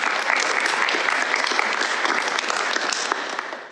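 A school audience at a junior school music celebration applauding a teacher: steady, full clapping from a crowd, close and fairly loud, sustained throughout before easing slightly at the end.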